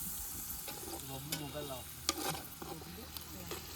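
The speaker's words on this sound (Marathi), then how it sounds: "आता कांदो आणि टांबाटो मस्तपैकी परतून घेत आहोत तेलात" Onion and tomato sauté in hot oil in a pan outdoors, a soft continuous sizzle broken by occasional stirring scrapes and knocks, with faint voices in the background.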